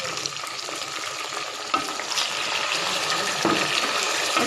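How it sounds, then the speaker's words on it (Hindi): Chicken and onions fry for biryani in a pan, giving a loud, continuous sizzle with occasional stirring knocks and a rush that swells slightly toward the end. "बस 1 से 2 मिनट के लिए मैं इसको फ्राई करूँगी और फिर इसमें हम चिकन डाल देते हैं"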